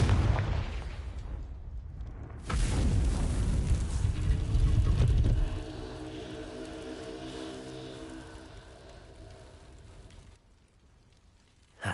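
A Confringo blasting spell explodes in Hogwarts Legacy with a sudden loud boom and rumbling burst, followed by crackling debris and a lingering magical shimmer that fades to near silence.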